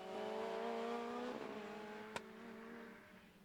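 A Lotus race car in a Lotus Cup race at the Rockingham circuit, a steady high engine drone that shifts pitch as the car passes, with a brief sharp click partway through, heard at moderate distance.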